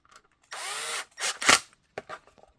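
Power drill driving screws into a foam press while making a holster, a few short whirring bursts separated by brief pauses, close and fairly loud.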